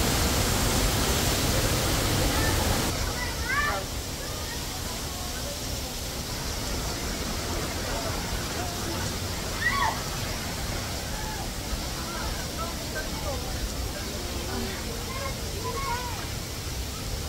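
The waterfall at Three Falls in Santa Maria, Laguna, rushes as a steady broadband roar throughout, with people talking now and then over the constant water noise.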